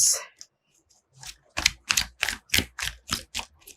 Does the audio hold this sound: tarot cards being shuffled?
yes